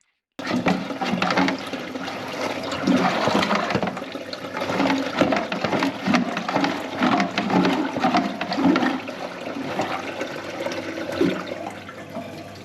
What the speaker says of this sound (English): I've got the sink running